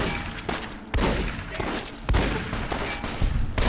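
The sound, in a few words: gunfire in a video game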